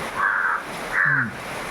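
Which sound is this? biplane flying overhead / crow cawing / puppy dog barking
crow cawing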